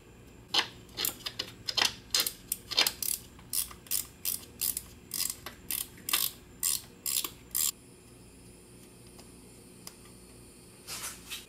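A wrench works the 10 mm bolts off the power steering reservoir of a 2003-2004 Cadillac CTS, giving a steady run of about twenty crisp, close ratcheting clicks in quick rhythm before going quiet.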